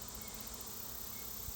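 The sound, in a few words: honey bees buzzing while brushed off a frame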